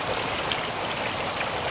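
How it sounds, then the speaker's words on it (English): Small water fountains at Lusail Marina in Qatar splash and gush in a steady close rush of falling water, with no voices over it. "these are fountains, huh?"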